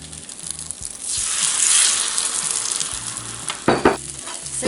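Egg-dipped bread fries in a pan that is too hot, giving a loud, steady sizzle that builds as the bread goes in. Scrapes and stirring clatter sound over the hiss.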